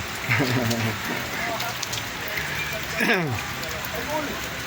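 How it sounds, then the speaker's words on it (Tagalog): Heavy rain pours steadily on a coastal fishing trip, a constant hiss broken by louder gusts of patter, while people talk throughout. "kaso lang malakas ang ulan"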